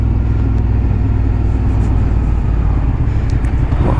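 Motorcycle engine while riding at about 60 km/h, a steady close droning rumble with constant wind roar throughout and no voices.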